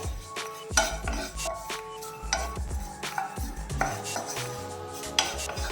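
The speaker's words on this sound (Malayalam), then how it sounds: "ഇത് നമുക്കൊന്ന് വറുത്തെടുക്കണം. അപ്പോൾ ഞാൻ ഗ്യാസ് ഓൺ ചെയ്ത് വെച്ചിട്ടുണ്ട്. ഇതൊന്ന് വറുത്തെടുക്കാം." Beaten rice (poha) is stirred and tossed while roasting in a pan, with a spatula scraping and clattering against the metal in irregular strokes. No one talks.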